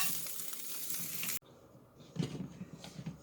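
Rice stir-fried in a hot stone pot for bibimbap, a steady loud sizzle that cuts off abruptly, then quieter crackling and stirring scrapes come and go.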